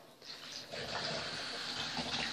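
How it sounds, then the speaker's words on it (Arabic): Half a litre of water pours steadily into a blend of tomato and strawberry for juice, a continuous gushing splash that grows fuller after the first moment and runs on without talk. "وغنضيف نصف لتر من الماء"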